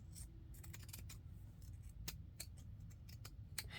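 Scissors snip through paper and lace trim on a small Dollar Tree composition notebook, a run of quick, crisp cuts close by at low volume against a steady background hum.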